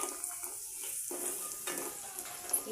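Gram flour dumplings (badilu) dropped into a pan of fried onions and turmeric, sizzling and frying steadily with a few light stirring and utensil clinks, close and continuous with no talk.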